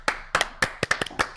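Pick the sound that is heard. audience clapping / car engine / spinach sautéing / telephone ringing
audience clapping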